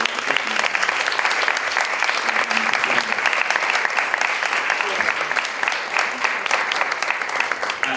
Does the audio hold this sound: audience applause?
yes